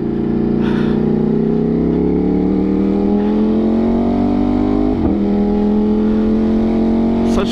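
Motorcycle ridden across a bridge, its engine loud and close throughout, pitch climbing steadily as it revs through gears with a quick shift around the middle, then pulling on with no talk.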